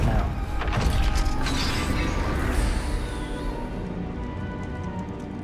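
In Hogwarts Legacy, a heavy gate slams shut with a booming mechanical crash and rattling thud, loud at first and then settling into a fading rumble.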